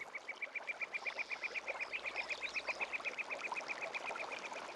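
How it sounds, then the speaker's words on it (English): Duck quacking rapidly and steadily, a long run of evenly spaced calls close by, heard outdoors at the Tamansari complex in Yogyakarta where birds roam freely, with no talking. "Hope that bird didn't surprise you too much."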